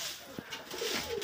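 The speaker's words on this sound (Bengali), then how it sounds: "এই যে দেখেন কবুতরটা" Domestic pigeons coo in a loft where they nest on eggs, a few soft low throaty calls rising and falling over a quiet room hiss, close by and moderately faint.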